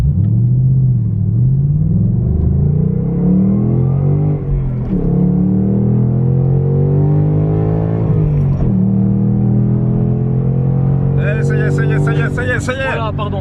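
A Ford Mustang Bullitt accelerates hard from standstill to 130 km/h, its engine note rising through several gear changes with a loud, steady rumble that climbs and drops at each shift, heard from inside the car.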